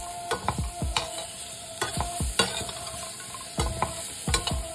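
Boiled potatoes and roasted peanuts are stirred with a spatula in a pan on a home stove, giving close, repeated scraping strokes in an uneven rhythm with faint sizzling between them.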